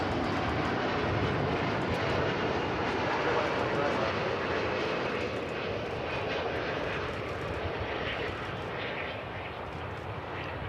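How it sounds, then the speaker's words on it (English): A Qatar Airways Airbus A350-1000 arriving from Doha produces a sustained, loud jet-engine roar that slowly eases toward the end, with a voice talking over it. "you get to see this Qatar A350 1000 coming in from Doha"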